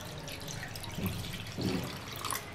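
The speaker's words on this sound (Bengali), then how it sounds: "পানি নিয়ে নিলাম কিছুটা।" Water is poured into a bowl holding 200 grams of boneless chicken for a sandwich filling, giving a couple of brief splashing trickles over a quiet kitchen background.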